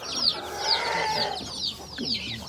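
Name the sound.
chickens clucking near a chicken coop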